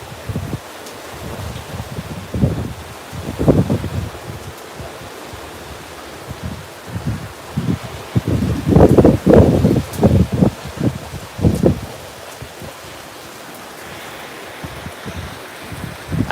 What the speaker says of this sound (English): It's a decent rain.